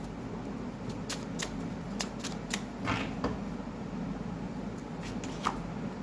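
Tarot cards being handled and shuffled, a series of soft, crisp flicks and slides at an uneven rhythm, close by over a steady low background hum.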